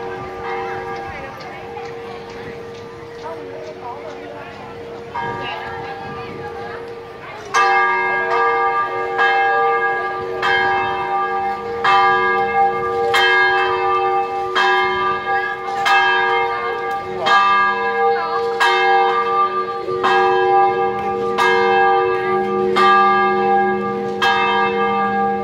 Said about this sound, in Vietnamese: chuông nhà thờ lại điểm